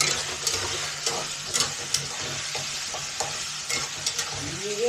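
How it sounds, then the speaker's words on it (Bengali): Cumin and chilli tempering sizzles in hot oil in a pan, a continuous crackling hiss broken by periodic stirring clinks. "জিরে আর লঙ্কা ফোড়ন দিয়েছি।"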